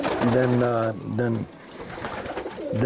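Racing pigeons coo inside a loft in Utah. Deep, close, throaty coos come in two phrases, with a voice talking underneath and between them.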